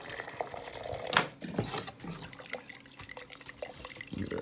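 Hot water runs from a tap in a steady, close splashing stream with a brief louder gush early on.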